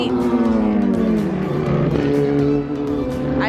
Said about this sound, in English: Ferrari 488.